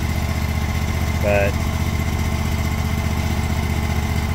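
Hustler Fastrak SDX zero-turn mower engine running at a steady, loud drone close by, with a brief spoken word over it.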